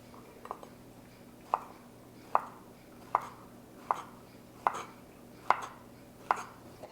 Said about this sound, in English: And then I'm going to cut it in half. And then in half again, the long way like this.